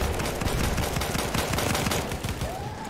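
Rapid automatic gunfire in the Battlefield 5 video game, a dense, continuous rattle of overlapping shots that stays loud and steady throughout.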